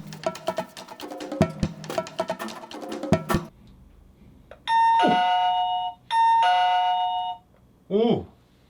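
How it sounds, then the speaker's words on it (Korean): A newly installed electronic front-door intercom doorbell chimes twice in clear two-tone rings, followed by a brief short tone, after some shuffling and handling noises. "밖에 나가서 초인종 벨 좀 눌러주세요"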